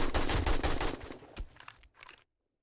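An AK assault rifle in a Resident Evil game fires a rapid, loud burst of automatic shots that trails off into a few scattered shots before cutting to silence.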